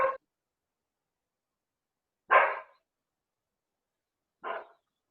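A small dog gives three separate sharp barks spaced a couple of seconds apart, moderately close, with silence in between.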